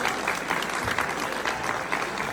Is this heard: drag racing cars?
no